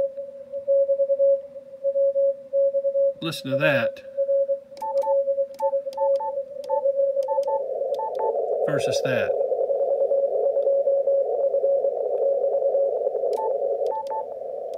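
Radio signal received on a Yaesu FTdx5000 transceiver and passed through its audio peak filter: a steady, loud single tone that thickens and grows denser partway through, with two short bursts of someone speaking over it.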